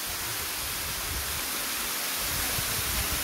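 Red Dragon Falls in Yangsan pours down in a loud, continuous, even roar of rushing water heard up close, with no voices.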